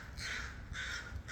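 Two crows cawing, three harsh calls in a loose rhythm, fairly faint over a low rumbling background.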